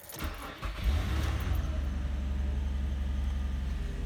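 A car engine cranks and catches on the first try after its corroded battery has been cleaned and refitted, then settles into a steady low idle, close and fairly quiet.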